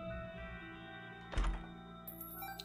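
A heavy thunk as a locked chest is opened with a key in The Binding of Isaac: Repentance, one short low impact over quiet game music, followed by a brief brighter chime.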